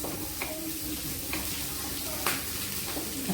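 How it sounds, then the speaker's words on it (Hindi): Onion and fennel seeds fry in hot oil for a chokha as they are stirred, giving a steady close sizzle broken by a few sharp scrapes of the spoon against the pan. "भून लेते हैं।"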